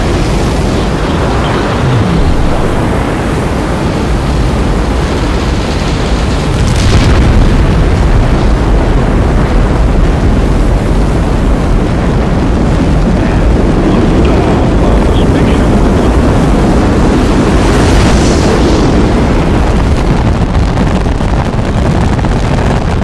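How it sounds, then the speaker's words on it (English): Rocket liftoff: a steady, loud broadband roar fills the whole stretch without letup, swelling slightly midway, with a background voice speaking over it. "Liftoff. The rocket speeds through the atmosphere"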